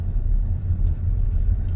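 A car creeps slowly along a very narrow lakeside road, giving a close, steady low rumble of engine and tyres with no talking.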